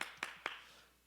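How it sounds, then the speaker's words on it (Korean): Three sharp, separate hand claps ring out in a quiet church room to welcome a speaker, each crisp and close with a short fading tail. "우리 박수로 환영하겠습니다."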